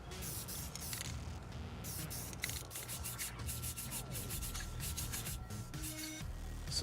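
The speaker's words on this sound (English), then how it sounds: "you get the paper wet and you just start sanding away" Wet sandpaper rubs over a Batman action figure being prepared for a repaint, a soft, quiet scratchy scrubbing in short repeated strokes.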